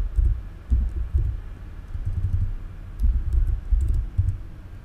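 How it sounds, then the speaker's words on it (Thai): Keys clatter on a computer keyboard in a quick, uneven sequence of soft close taps, grouped into short bursts with brief pauses, alone with no voices. "พิมพ์คำว่า container"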